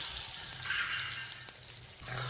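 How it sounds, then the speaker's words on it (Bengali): Marinated soybean chunks fry in oil in a wok, a steady close hiss and crackle of sizzling throughout with a brief soft stirring scrape. "তেলটা কড়াইয়ের গায়ে ভালো করে লাগিয়ে নিয়ে এবার ম্যারিনেট করা সয়াবিনটা দিয়ে দিচ্ছি।"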